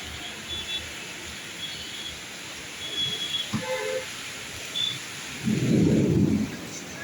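Thunder rumbles during a Kalbaisakhi storm in Bhubaneswar, with a deep, swelling roll near the end that stands out above a steady background hiss of wind and rain.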